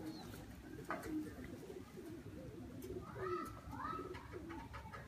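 Pigeons cooing in a loft, several soft throaty coos repeating near the microphone over faint background noise, with a brief burst of movement early on.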